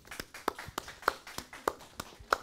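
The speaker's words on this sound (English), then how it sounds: "give them a round of applause" Sparse, faint applause from a church congregation: a few soft claps and taps in an uneven rhythm, thin and brief rather than a full ovation.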